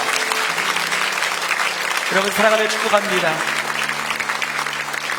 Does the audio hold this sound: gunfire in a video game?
no